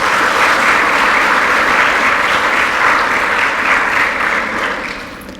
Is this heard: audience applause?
yes